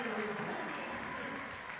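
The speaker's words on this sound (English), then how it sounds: "The crowd goes crazy." A gymnasium crowd at a high school basketball game between St. Joseph Westchester and Belleville Althoff roars and cheers after an and-one play, a steady broad wash of crowd noise with no let-up.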